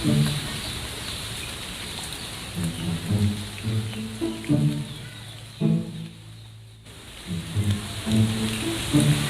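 Soft, steady patter of light drizzle falls outdoors in a neighborhood, a faint hiss running throughout beneath intermittent low thumps and murmurs.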